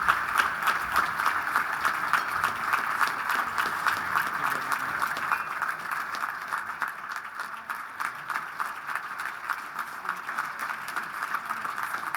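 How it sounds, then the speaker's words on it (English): Applause from the audience at an awards luncheon as an honoree comes to the stage, a sustained, moderately loud patter of many hands clapping evenly for about twelve seconds with no talk over it. "let's give her a round of applause."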